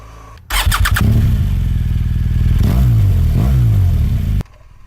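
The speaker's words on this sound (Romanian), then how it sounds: "am pornit și microfonul din pack-ul de Bluetooth ca să capteze sunetul motocicletei" Close, loud motorcycle engine starting with a few sharp blips, then steady running and rising revs with pitch sweeps as the bike accelerates on a road, cutting off abruptly near the end.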